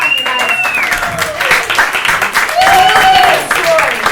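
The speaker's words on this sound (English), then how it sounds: "her a round of applause" Audience at a live storytelling game show breaks into steady clapping that lasts the full four seconds, loud and dense, with voices talking and calling out over the applause.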